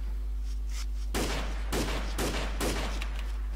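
Heavy gunfire from a firefight in a military video game, with loud bursts of shots one after another from about one second on, dense and close over a faint background hum.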